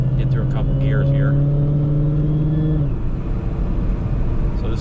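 A Challenger R/T or Camaro Z/28 accelerating on a Michigan road, engine droning steadily and loudly up through a gear, then dropping off at the shift, with a voice talking over it.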